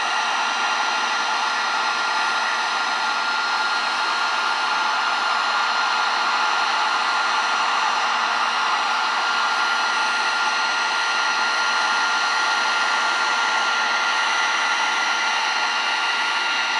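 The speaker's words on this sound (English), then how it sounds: "so now we're going to use the heat gun" A heat gun blows with a steady, loud, high whooshing hiss while heating a glass beer mug with gold foil printing, unbroken and close throughout, with no voices.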